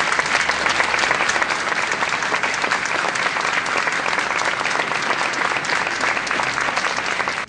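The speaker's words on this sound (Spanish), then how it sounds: "Estalla un espontáneo aplauso cuando el féretro es conducido hacia la iglesia" Spontaneous applause from a crowd as a coffin is carried into a basilica at a funeral, loud dense clapping sustained evenly throughout before cutting off at the end, with no talk.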